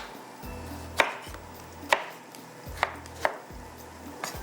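Onion being chopped into pieces on a board, four or five sharp, evenly spaced knife thuds close by over a low background hum, no talking.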